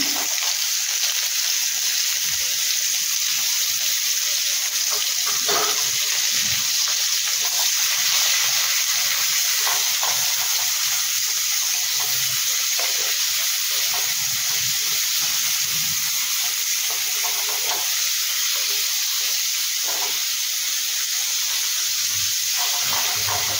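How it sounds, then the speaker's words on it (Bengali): Onion frying in oil with five-spice seeds (panch phoron) in a pan, a steady close sizzle and hiss with scattered stirring scrapes and pops throughout. "এবার পেঁয়াজটা দেব। পেঁয়াজটাও একটু ভেজে নিয়ে"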